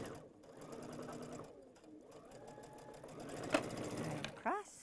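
A sewing machine runs a straight quilt seam on a star wall-hanging project, its fast stitching chatter starting and stopping in short bursts close by, with faint handling noises near the end.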